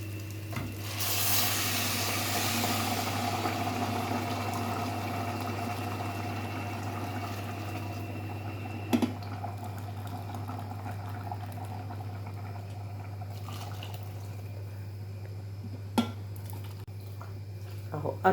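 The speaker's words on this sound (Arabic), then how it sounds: "كوبايتين رز عليهم 4 كوبايات ميه مغليه." Four cups of boiling water pour onto basmati rice in a pot, making a steady, faint hiss with a low hum beneath and a couple of sharp clicks near the end.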